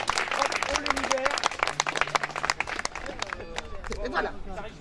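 An audience at an outdoor street-theatre show claps in a dense burst of applause, with voices calling and chattering through it, fairly close and continuous.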